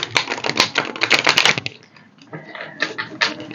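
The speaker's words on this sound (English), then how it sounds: "give it a shuffle and see if this deck wants to say a little more" Rapid crisp fluttering clatter of a tarot deck riffling close up, a burst of dense flicking followed by a quieter pause and a few softer riffles.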